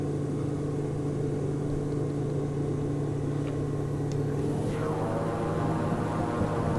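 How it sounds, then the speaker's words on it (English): Reverse thrust from a Pilatus PC-12 turboprop in the X-Plane flight simulator, a steady loud engine roar with a low hum that swells slightly as a rising whine sweeps in near the end. "Love the sound of that reverse."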